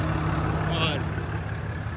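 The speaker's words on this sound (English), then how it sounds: "This engine's very vibrating. The fan's on." A pickup truck with blow-by problems idles with its hood open, a steady low engine hum and vibration with the radiator fan whirring continuously, heard close up.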